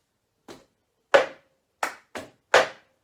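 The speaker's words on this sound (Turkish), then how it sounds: "Tut, bırak, alkış tut, bırak, tut, bırak, alkış tut, bırak" Cup song rhythm made by grabbing and releasing a cup and clapping. Five crisp percussive hits land in a sparse, uneven pattern, close and clear against silence.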